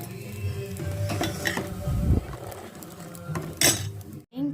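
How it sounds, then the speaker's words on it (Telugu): Tea bubbles in a pot on a gas stove with a steady simmering hiss, joined by occasional clinks and scrapes of a utensil against the pot. "టీ బాగా మరుగుతూ ఉన్నాయి"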